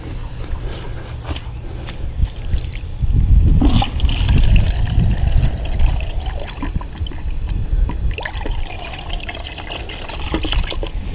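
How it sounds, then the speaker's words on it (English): Tap water gushes and trickles into a large bowl or small bucket holding a few drops of dish soap, building suds for a homemade garden spray against caterpillars and squash bugs. It pours steadily and fairly close for several seconds with no talking. "And just add water."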